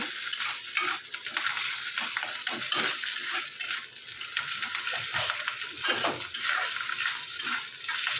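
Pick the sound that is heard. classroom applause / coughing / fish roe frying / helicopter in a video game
fish roe frying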